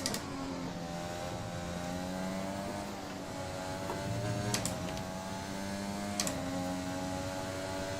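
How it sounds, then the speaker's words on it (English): A Formula 1 car's engine over-revving in F1 2021, a steady, droning high-pitched whine held throughout at moderate level, with a couple of brief sharp clicks of gear shifts. "I think I might be over-revving the gears."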